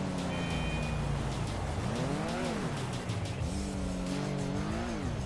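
A BMW motorbike speeds along in the GTA 5 video game, its engine droning steadily and loud with the pitch climbing and falling through gear changes and throttle swells, tires hissing beneath.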